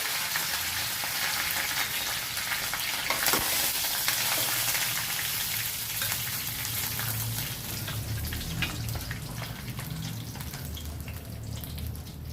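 Dried red chillies and curry leaves frying in hot oil for a brinjal pickle tempering, a steady close, loud crackling sizzle with popping spatters that runs continuously throughout, with no talking.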